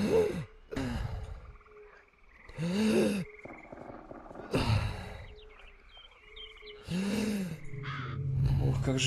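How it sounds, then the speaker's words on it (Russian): Heavy, laboured breathing of the player character in the game STALKER Misery 2.0, recurring as several loud gasping breaths at a steady pace over faint ambient game sounds. "Ох, как же тяжело ты дышишь,"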